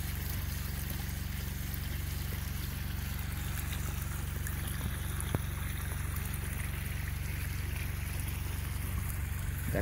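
Water flows steadily in motor-driven flood irrigation of a corn field, with a constant rushing wash and a low steady motor hum throughout, with no talk.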